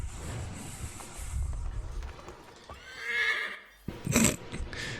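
A horse in the video game Assassin's Creed III whinnies loudly up close, a rising then falling neigh, followed by a burst of hoofbeats and another snort.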